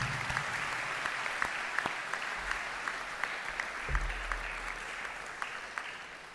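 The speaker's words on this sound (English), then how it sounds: "please join me in giving a round of applause to all the graduates." A crowd at a graduation ceremony applauds steadily, a sustained patter of many hands clapping, heard from a moderate distance.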